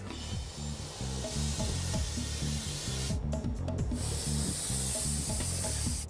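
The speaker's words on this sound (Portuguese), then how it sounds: "Encher 12 balões meteorológicos com gás hélio é um processo demorado." Helium gas hisses steadily while filling a weather balloon, loud and continuous, with a rhythmic low rumbling or flapping running underneath and a brief dip midway.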